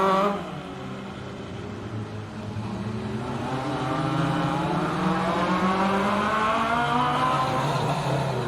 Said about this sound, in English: Stephen Sawley fires that Mark II off the line.